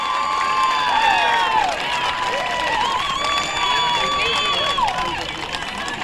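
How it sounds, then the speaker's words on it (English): A crowd cheers and whoops at a bourbon barrel relay race during the 2013 Bourbon Festival, steady and loud for the whole stretch, with shrill whistles rising and falling above the roar. "And the crowd's going wild."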